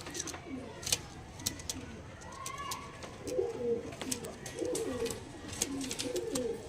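Andhra pigeons coo softly, with a few soft low warbling calls in the latter half, set against a quiet room full of small clicks and taps.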